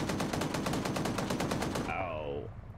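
A rapid machine-gun burst rattles in a military video game, loud evenly spaced shots for about two seconds before cutting off into a fading tonal whine.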